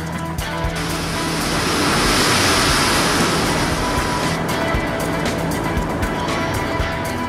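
A force 10 storm at sea, winds gusting 60 to 70 knots while a cargo ship pounds into the waves: loud, continuous roaring wind and surging, crashing water that swells in the middle and never lets up.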